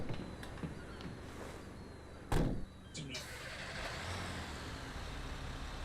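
A truck drives in the video game GTA 5 Enhanced, a low engine rumble and road noise running steadily throughout, broken by one sharp, loud thump midway.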